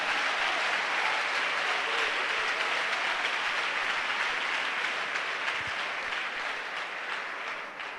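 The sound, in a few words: congregation applauding and acclaiming Jesus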